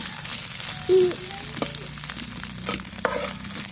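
Dried fish fries in a pan with a little salt, giving a steady, soft sizzle with faint crackles and an occasional scrape or clatter of stirring close by.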